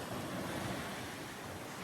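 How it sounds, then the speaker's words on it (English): Waves rush past a sailboat cruising at about 7.5 knots under a flying spinnaker off Vancouver Island, a steady, broad wash with wind buffeting the microphone throughout and no voices. "We've got spinnaker up and flying, and we are cruising down some waves"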